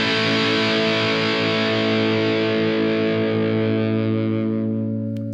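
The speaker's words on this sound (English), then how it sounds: "The DS-2 Turbo Distortion came out in 1987" Electric guitar played through a Boss DS-2 Turbo Distortion pedal from 1987, a single loud sustained distorted chord ringing out for several seconds and slowly fading.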